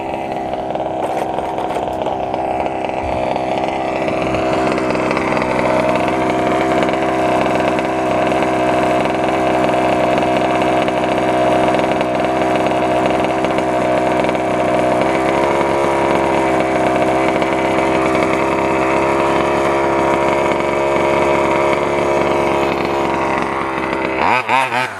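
An FG 2WD RC truck with new 24mm hex wheel adapters runs on its first test, its small engine buzzing in a steady, loud, unbroken drone for the whole stretch before cutting off at the end.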